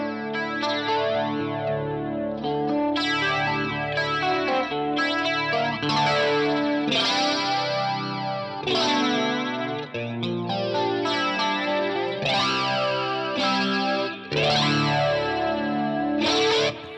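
Electric guitar played with a pushed clean tone through a Deluxe Electric Mistress flanger pedal with every control flat, bright strummed chords and notes carrying a sweeping, swirling modulation, steady and up close without talking.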